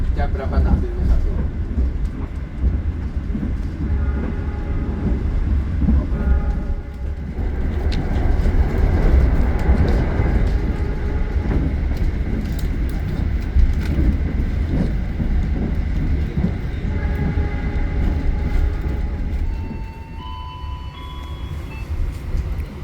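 Passenger train on the Jakarta–Jogja line heard from inside the carriage: a continuous loud rumble with rhythmic clatter and squeals from the wheels, while people speak over it at times.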